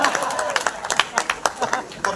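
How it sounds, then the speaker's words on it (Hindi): Applause from an audience at a comic poetry show: scattered, uneven claps burst out over a couple of seconds, with a murmur of voices underneath. "बहुत जोरदार तालियां।"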